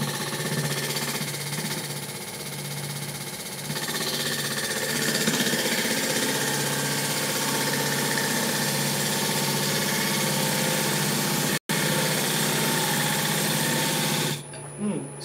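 Wood lathe spinning up while hollowing out a fruit bowl, a steady loud motor drone with a constant hum that runs the whole time, briefly cutting out near the end.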